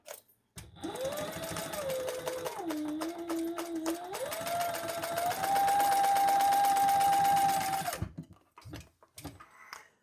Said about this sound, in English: And then we're going to sew that together